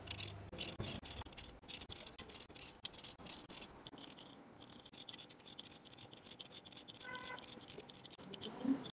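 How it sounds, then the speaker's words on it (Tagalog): Three medium potatoes being peeled by hand, a steady close scraping and rasping that runs for several seconds with no one speaking. "At balatan lang muna natin ito."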